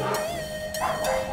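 Dogs bark in a few sharp bursts at a house in Ankawa, Kurdistan, Iraq, fairly close, with a higher yip among them and no talk.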